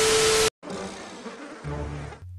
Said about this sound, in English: Bees, my god.